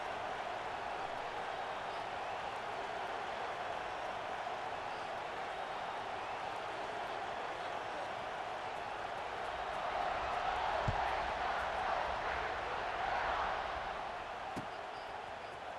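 Stadium crowd noise in a football video game, a steady roar of cheering that swells louder briefly near the end, heard alone without talk.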